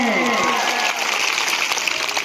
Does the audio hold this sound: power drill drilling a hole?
no